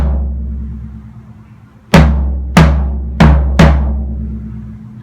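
A Congado drum struck normally with four resonant hits that ring out and decay, evenly spaced after a quiet low hum, played alone and close.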